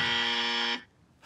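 A game show buzzer gives one loud, flat electronic buzz lasting under a second, then cuts off sharply into near silence.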